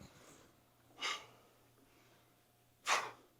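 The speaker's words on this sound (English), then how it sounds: "you kind of hear him breathing through his mic, in through the nose, exhaling through the mouth" Two sharp, close breaths about two seconds apart, each a quick forceful rush of air in through the nose and out the mouth, heard through a headset mic during an exercise bike workout, with quiet background hiss between them.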